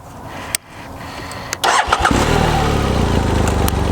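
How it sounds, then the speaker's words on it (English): A BMW 800 GS motorcycle engine cranks briefly and fires up, settling into a steady, loud idle that runs close by to the end. "I'm going to turn on my bike."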